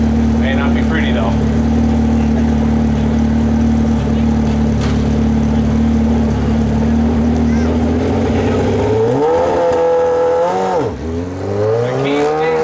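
A 1,200-pound modified lawn tractor at a truck and tractor pull holds a loud, steady engine drone, then revs up and down sharply near the end, with a voice heard under the engine noise.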